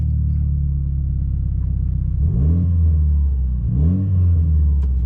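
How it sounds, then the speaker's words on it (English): A car engine idles with a low steady rumble, briefly revving twice; a faint rattling buzz from one corner of the engine rides along with the engine noise, close by. "It's like a rattle noise over there in that corner."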